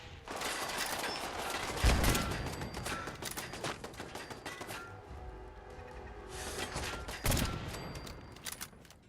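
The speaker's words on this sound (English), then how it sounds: "whatever was shooting at us must have been... Oh, it's one of those wall turrets" A wall turret firing in Fallout 4: rapid, rattling automatic shots in a dense stream, faint overall, with louder bursts standing out twice and a brief lull midway.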